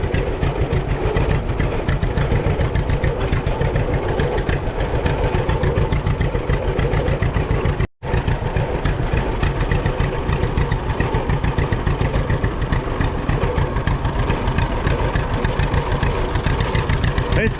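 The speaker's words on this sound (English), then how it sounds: "a windrower, a John Deere windrower." A John Deere windrower's engine runs at an old-fashioned threshing bee, a loud, steady, close-up throbbing rumble that holds for the whole stretch apart from one brief dropout midway.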